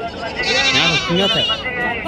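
Goats bleat loudly in a wavering, quavering cry, with a busy crowd chattering close by throughout, at a goat market in Angallu.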